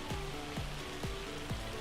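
Steady rain in Farming Simulator 25, a constant close patter of drops on a surface running evenly throughout, with a low tonal hum underneath.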